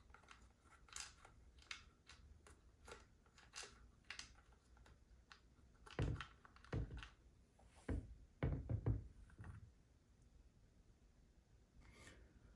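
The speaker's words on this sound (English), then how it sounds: "Just screwing them in here and one in the back." Screws are driven into a Dyson vacuum during a battery replacement, giving quiet, close scratchy turning and clicking with a few louder rasping bursts in the middle.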